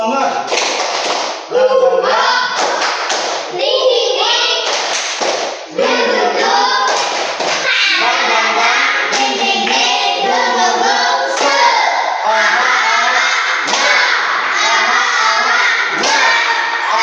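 Schoolchildren perform a tepuk semangat clapping routine in a classroom, with loud rhythmic bursts of clapping in set patterns mixed with their chanting voices, close and energetic throughout.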